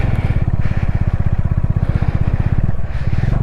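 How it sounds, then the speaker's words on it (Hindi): A motorcycle engine idles and putters at high altitude on a snowy mountain road in Ladakh, a loud, close, rapid even thumping pulse that continues steadily without any talk. "बाइक की आवाज़ भी चेंज हो गई है"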